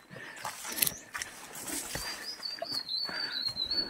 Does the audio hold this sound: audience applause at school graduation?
no